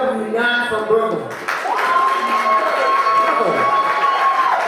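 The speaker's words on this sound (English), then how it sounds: "Anybody that's not from Brooklyn, clap it up if you're not from Brooklyn." A live comedy show audience claps and cheers in a sustained, loud burst of applause, with crowd voices mixed in throughout.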